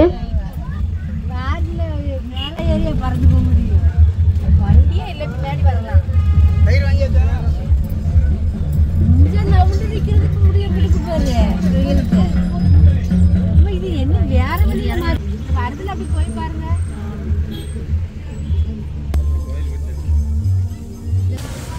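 Steady low rumble of passing road traffic with engines and vehicles moving by, continuous throughout, with voices talking over it.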